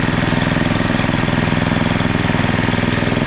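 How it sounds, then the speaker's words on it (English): A snowblower from an estate sale runs steadily with its blower engaged, a loud close engine drone with a fast, even pulsing chug and constant mechanical vibration that never lets up. "Engage the blower too."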